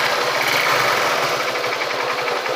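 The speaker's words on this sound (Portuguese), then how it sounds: "Desligar e ligar a moto aqui," Honda Titan 150 motorcycle engine running right after a restart, a close, steady idle with rapid rhythmic ticking and a knocking vibration, no voices.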